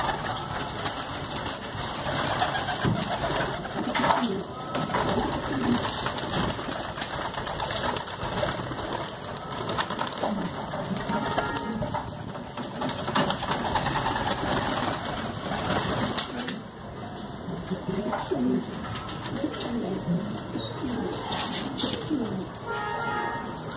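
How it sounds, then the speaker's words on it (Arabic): Released pigeons cooing outdoors, soft repeated coos over a steady background hum, with faint wing flutters and no talk. "هما الحمام هنايا وما حنا طلقناهم"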